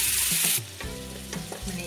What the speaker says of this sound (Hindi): लहसुन और अदरक जो मैंने कूट कर रखा है इसे भी इसके अंदर डालेंगे और इसे अच्छे तरीके से मिला करके 1 मिनट तक हम भून लेंगे तेल के साथ